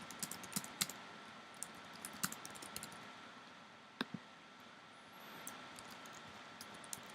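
Someone types on a computer keyboard, producing soft, irregular keystroke clicks at close range, some louder taps standing out against a quiet background hum.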